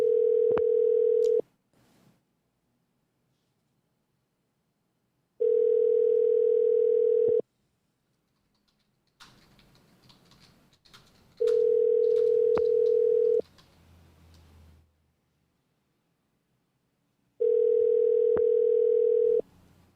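Telephone dial tone while a call is placed to an emergency services office, a steady tone sounding in regular bursts with silent gaps, plus a brief stretch of faint clicks and line noise.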